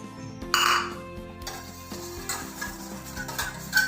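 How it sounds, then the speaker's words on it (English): Pancake batter with melted butter and egg being whisked in a bowl: quick, light stirring and clinking of a whisk against the bowl, close and steady, with music playing underneath. "whisk it till they are well combined"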